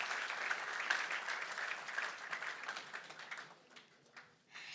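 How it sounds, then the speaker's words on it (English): Audience applause at the Transform Africa Summit 2023 closing ceremony, a faint, distant crowd clapping steadily that thins out and fades toward the end. "A big round of applause"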